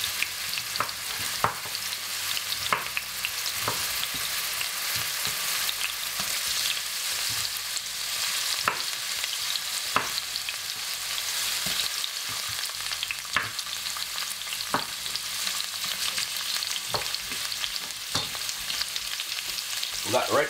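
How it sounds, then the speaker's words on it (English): Carrot frying in a pan, a continuous close sizzle with frequent sharp crackles and occasional stirring scrapes, steady and fairly loud throughout with no talking. "Want to fry up that carrot inside of it."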